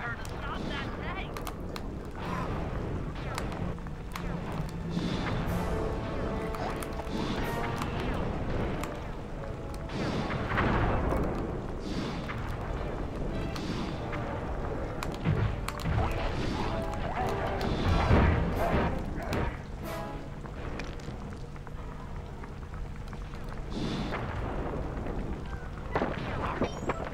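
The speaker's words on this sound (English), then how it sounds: "Shoot at her tank, Dan." Shots aimed at a tank in Sly 2: Band of Thieves come as repeated crashing impacts and booms inside a dense game soundtrack. The hits keep going throughout, and a person talks now and then over the noise.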